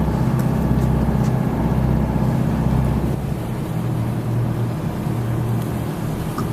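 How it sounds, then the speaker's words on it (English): A steady, loud boat engine drones and rumbles continuously, low and throbbing, with water and wind noise around it and no voices, on a bay at Cape May, New Jersey. "The dolphins, they know the sound of the boat, the vibrations of the boat"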